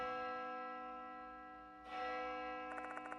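An eerie bell hums with a sustained ringing tone in the horror game Death Mark 2, then breaks into a rapid, evenly pulsing ring near the end, with no voices.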